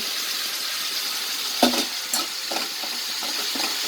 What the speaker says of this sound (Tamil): தக்காளி போட்டோடனே கொத்தமல்லி புதினா சேர்த்துடலாம். சேர்ந்தே வதங்கிடும்.